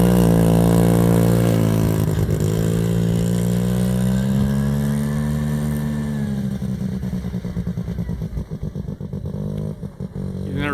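A 1970 Arctic Cat Panther 303 rotary snowmobile, a barn find, runs loud and close with a buzzy engine tone that rises and falls under light throttle, then turns choppy and sputtering near the end.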